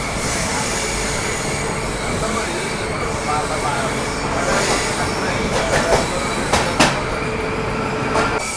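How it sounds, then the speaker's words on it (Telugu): Train rolling through Godavari railway station, a steady loud rumble of wagons with a few sharp wheel squeals and clanks near the end; speech is faintly present. "మనం అయితే ఇప్పుడు గోదావరి రైల్వే స్టేషన్ని పాస్ అవుతున్నాము"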